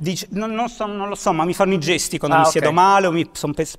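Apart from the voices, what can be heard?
No everyday noises stand out.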